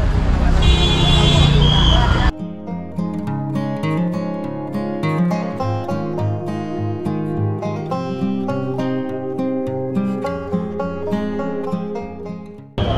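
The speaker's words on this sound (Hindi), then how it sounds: "ट्रैफिक बहुत है, बुरा वाला ट्रैफिक है।" Heavy, congested road traffic on Manali's Mall Road in summer, a dense roadside din of engines and crowd noise with music playing over it, continuous and close throughout.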